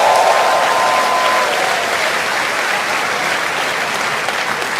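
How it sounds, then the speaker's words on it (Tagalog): A large audience applauds loudly and steadily, a dense wash of clapping that continues without pause. "Lalo na kung malakas pumalakpak"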